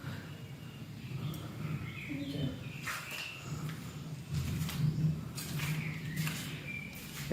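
Small birds chirp faintly in the distance during a calm, rainy walk near the Bankya Residence, with scattered short calls over a steady wash of rain and outdoor ambience, no voices.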